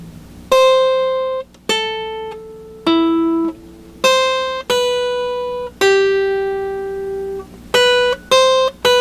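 A guitar picks out a melody slowly, one ringing note at a time, each plucked tone sustaining and decaying before the next, close and clean with no talking.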